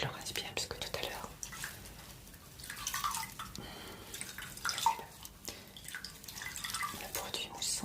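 A bath glove is rinsed in water, with soft dripping and trickling splashes that rise and fall in close, gentle bursts beneath quiet whispering throughout.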